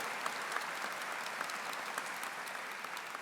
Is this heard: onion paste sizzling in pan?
no